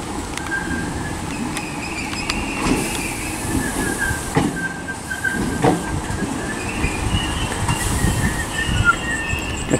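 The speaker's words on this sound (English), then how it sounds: "the train arriving now is the 12:13 Southern service from Seaford to Brighton" British Rail Class 313 electric multiple unit on a Southern service from Seaford to Brighton pulling into Lewes station, a steady nearby rumble of wheels on rails with scattered clicks and faint brake squeals throughout.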